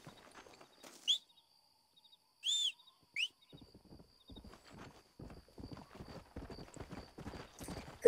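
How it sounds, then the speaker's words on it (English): Horse hooves clip-clop in a steady trotting rhythm in Red Dead Redemption, preceded by a few sharp whistle-like calls; a close, clean game-style sound. "mount up on my horse"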